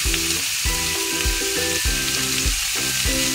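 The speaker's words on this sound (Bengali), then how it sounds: "ইঁচড়গুলো ভেজে নিতে হবে।" Young jackfruit fries in a pan with a steady, close sizzle that swells and eases in a regular rhythm, as if the pieces are being turned.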